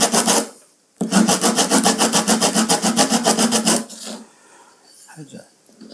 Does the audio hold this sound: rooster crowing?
no